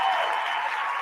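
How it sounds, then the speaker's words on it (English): Wild applause from a studio audience, dense clapping filling the whole short moment at close range, fading slightly toward the end with no voices heard. "What a raucous round of applause"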